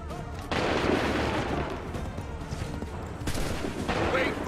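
A musket volley in Assassin's Creed III: a broad, rolling roar of massed firing swells in and stays loud and crackling throughout, with a second surge later and shouted voices faintly mixed in.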